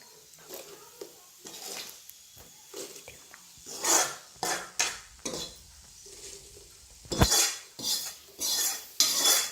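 A fried batter dish with poured tempering mixed with a spoon in a pot, a series of irregular metallic clinks and scrapes against the pot with faint background murmurs.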